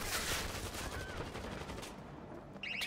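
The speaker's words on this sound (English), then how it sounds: "Firing a stim shot." Stim-shot gunfire in Darktide, a fast run of sharp shots rattling out in a steady stream at moderate level, easing briefly before another loud burst at the close, with no voices.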